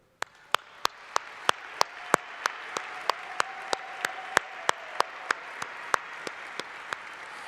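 Clapping at a gala: sharp, evenly spaced claps sound close and distinct in a steady rhythm over a quiet room hum.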